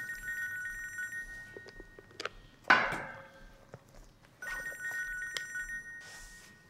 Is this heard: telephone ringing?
yes